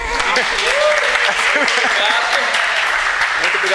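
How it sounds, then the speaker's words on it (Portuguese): Sustained, loud applause from an audience for a professor at an academic talk on education and the environment. The clapping stays dense and even throughout, with people speaking over it. "peço por favor uma salva de palmas ao professor"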